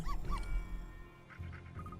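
A dog whimpers in the Professor Layton vs Phoenix Wright video game, a few short high whines near the start, then softer cries over low background music.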